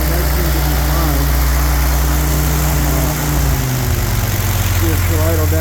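A rebuilt 1948 Willys engine idles steadily with a low, even drone that settles slightly lower partway through, close and continuous.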